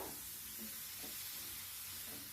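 Chopped ridge gourd sizzles in a hot pan as it is mixed with other vegetables, a steady, even hiss with faint soft scraping of stirring, no voices.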